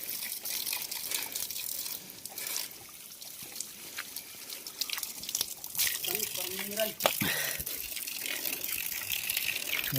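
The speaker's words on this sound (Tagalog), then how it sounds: "Yan tayo ng bukal." Cold spring water at Bukal Falls trickles and gushes steadily nearby, while people talk over the flow.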